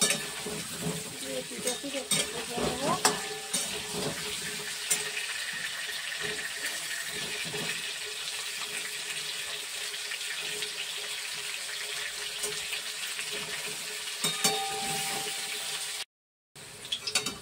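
Turmeric-coated pieces fry in hot oil for a mutton curry, giving a steady, close sizzle with occasional stirring clinks and scrapes, ending in a brief cutoff before the sizzle resumes.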